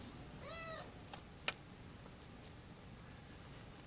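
A pet cat meows once, fairly faint and nearby indoors, followed by a brief sharp click, with no talking.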